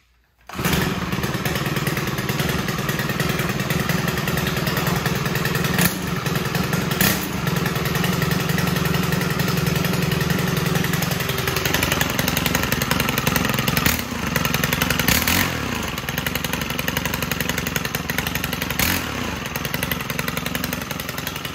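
A Stihl string trimmer engine runs steadily with the choke off, a loud, close, continuous buzzing drone that holds high speed with slight pitch shifts throughout and no speech.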